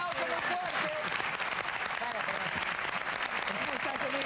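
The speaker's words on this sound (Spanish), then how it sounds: "¡Un aplauso muy fuerte!" Studio audience on a 1999 Peruvian TV talk show applauds in a dense, steady wash of clapping, with a voice talking faintly beneath it.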